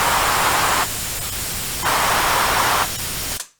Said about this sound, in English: I hope it's not too loud, this kind of white noise